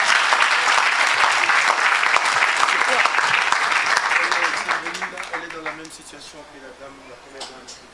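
A church congregation claps loudly and cheers, dense applause that holds strong and then thins out toward the end as a few voices carry on underneath.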